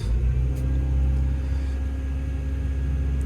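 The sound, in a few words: excavator engine revving in dig mode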